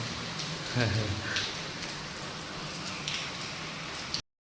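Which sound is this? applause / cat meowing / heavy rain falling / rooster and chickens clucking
heavy rain falling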